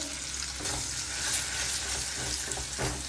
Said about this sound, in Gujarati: હવે એ જ કઢાઈમાં હું પાછો મસાલો શેકી લઉં છું